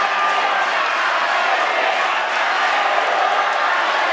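Supporters of four candidate pairs applaud and cheer at a village election event, a steady, dense crowd roar of clapping and voices holding loud throughout without pause.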